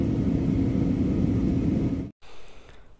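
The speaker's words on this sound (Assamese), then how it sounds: "প্লেনখন এতিয়া লাহে লাহে তলৰ ফালে আহি আছে" Steady, loud airliner cabin roar while the plane descends toward Kolkata on a Mumbai to Guwahati flight; the dense rumble and hiss cut out abruptly near the end, then return as a much quieter hiss.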